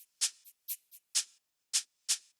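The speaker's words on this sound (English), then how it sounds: "I have a shaker pattern." Tech house shaker pattern of short, bright, breathy hits in a syncopated groove, seven strokes in quick succession with uneven spacing, crisp and isolated against silence.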